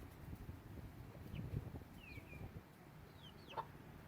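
Backyard chickens clucking on a calm day, soft scattered clucks and short chirpy calls at a moderate distance over a faint breezy outdoor background.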